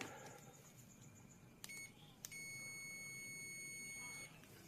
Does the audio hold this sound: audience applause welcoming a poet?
no